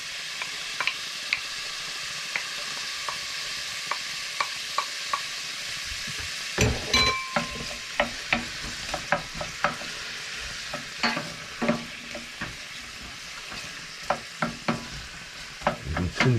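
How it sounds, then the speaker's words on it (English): Onions sizzle in a hot pan on a stove top beside cooking pork, a steady hiss of frying broken by repeated clicks and scrapes of stirring, close and with no talk. "now I'm going to add the onions."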